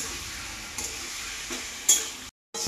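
Chicken and shrimp frying in a pan give a steady close sizzle with a few scrapes of stirring, then a short cut to silence before the sizzle returns.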